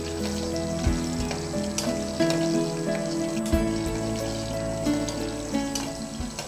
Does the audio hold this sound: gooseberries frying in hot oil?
yes